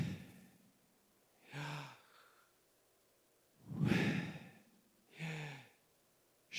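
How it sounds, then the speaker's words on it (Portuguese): Slow, deep conscious breathing, in and out, with three soft, airy breaths spaced a couple of seconds apart in a quiet room and no talking. "Quando você começa a respirar conscientemente, você experimenta uma quietude e uma respiração mais longa"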